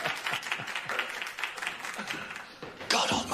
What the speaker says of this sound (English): let's have a big round of applause for our very own Father Dougal Maguire